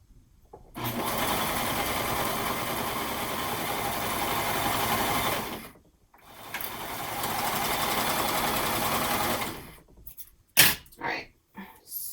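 A serger stitches elastic into the seam of a summer romper in two long, steady whirring runs with a short pause between, followed by brief handling noises and a few spoken words.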